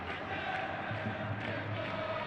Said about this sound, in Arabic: وهنا هتافات جماهير نادي النجف